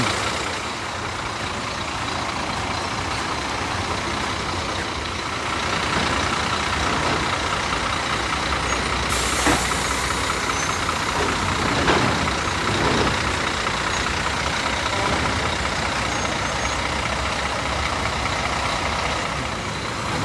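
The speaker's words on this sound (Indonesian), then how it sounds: "Scania ini suaranya lembut." A Scania K360IB bus diesel engine runs steadily with a smooth, even rumble, with a faint hiss and a few brief clanks over the drone.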